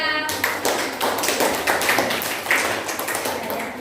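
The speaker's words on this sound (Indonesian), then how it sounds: "Oke, tepuk tangan untuk Saskia." A classroom of students claps hands together during an Islamic religious education lesson, a loud, busy patter of many hands lasting a few seconds, with a voice faintly mixed in.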